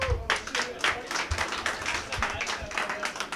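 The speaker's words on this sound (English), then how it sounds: "Give a round of applause for Mike and what he does for us" Audience at an open mic night in Las Vegas clapping: a brisk, continuous patter of hand claps from a small crowd, mixed with voices talking over it.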